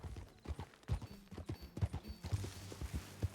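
A horse's hooves beat out a steady, even clip-clop while it is ridden in the video game Red Dead Redemption 2. The hoofbeats sound close and quiet, with no voices over them.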